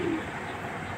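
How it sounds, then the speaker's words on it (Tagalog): Brief low cooing from native pigeons on a rooftop, a soft throaty coo at the very start over a steady background rumble. "Bali 5 kalapati dyan."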